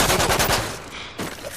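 Rapid automatic gunfire from FMG submachine guns in Call of Duty on the Hardhat map: a loud, close burst of quick shots, then a brief ringing tail and one more sharp report.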